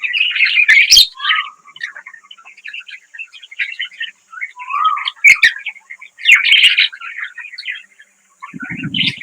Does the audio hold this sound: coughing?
no